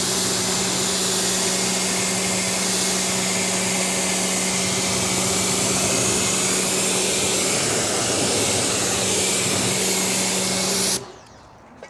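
Pressurized water rinsing a ceramic-coated car panel: a loud, steady hissing spray with a constant pump hum runs continuously, then cuts off abruptly near the end.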